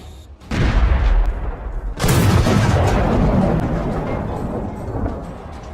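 Gunfire from troops in combat near trenches, with a sharp blast opening and another loud burst at two seconds, followed by sustained rumbling reports and crackle that stay loud throughout.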